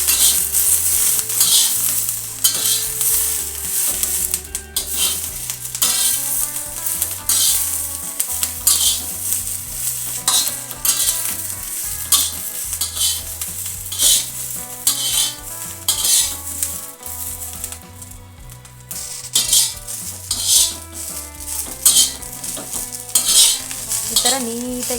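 Green chillies frying in hot cooking oil, a continuous bright sizzle close up with frequent metallic scrapes and clinks of a spoon stirring against the pan throughout.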